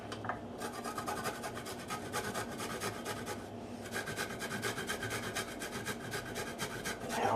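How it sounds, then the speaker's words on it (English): Fresh ginger root rubbed over a grater, a steady rhythmic rasping scrape in close repeated strokes with a brief pause, no talk. "grating a little ginger root"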